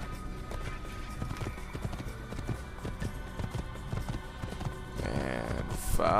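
Rhythmic hoofbeats clip-clop steadily at a gallop, with a brief horse whinny near the end over a busy synthetic background, in the video game Assassin's Creed.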